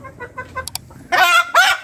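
Chickens clucking close by in a short run of quick clucks, then two louder, drawn-out squawking calls near the end, with no one talking.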